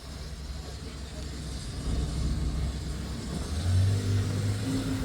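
A historic rally car's engine revs at the Rallye Monte Carlo Historique start in Stirling, Scotland, a low mid-range rumble swelling in two brief revs, under faint crowd murmur and distant voices.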